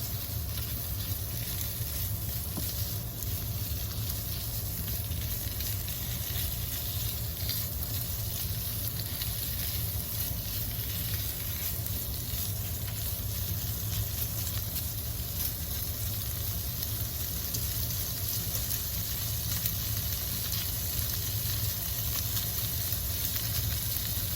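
Sausage browning in a pan for a seafood bake gives a constant close hiss and sizzle that barely changes over the whole stretch, with no talk.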